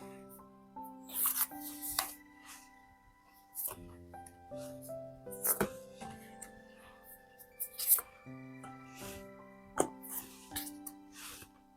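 Tarot cards are shuffled and picked out by hand in a series of soft, papery riffles and taps, spaced irregularly over gentle background music.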